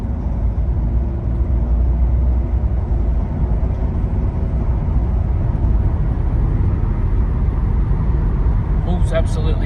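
A Ford Falcon BF XR6 Mk 2.5 with a neglected engine and its oil light on, recorded from inside while driving, gives a steady, loud engine and road drone with a voice heard over it.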